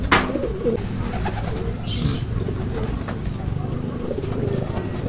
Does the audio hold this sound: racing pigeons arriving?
yes